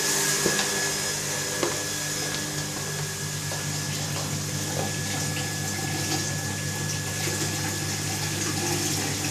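Radiator flushing machine running on a home heating system, pumping dirty water with a steady motor drone and continuous watery rushing, close and unbroken for the whole stretch.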